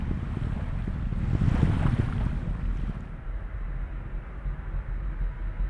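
An Atlas V rocket in flight, driven by its RD-180 engine and solid rocket boosters, makes a steady, dense, rumbling roar with a wind-like hiss that swells slightly and then continues evenly.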